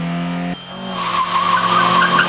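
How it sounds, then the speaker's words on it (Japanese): A Toyota EP82 Starlet fitted with TRD parts launches at a race start, its steady engine note breaking at once into loud, rising tire squeal and skidding from wheel spin. "TRD ホイールスピンが大きいか"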